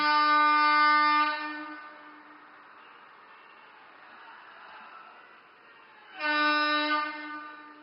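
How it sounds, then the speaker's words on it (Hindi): A festively decorated passenger train on the Kartauli–Ambala rail service sounds its horn at the start of its first journey, two long loud blasts separated by a lower rumble of rolling rail cars. "नई दुल्हन की तरह सजी ये रेल अपनी पहली यात्रा के लिए तैयार है।"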